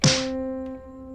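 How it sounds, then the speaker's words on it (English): A single sharp snare drum hit with a bright crack that rings briefly, leaving a faint sustained tone. "I created this snare sampler track in one of my videos the other day."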